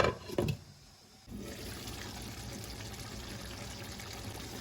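Water poured into a cooking pot of carrots and gravy, a few splashy bursts, a brief pause, then a steady continuous pour and trickle, close and moderately loud.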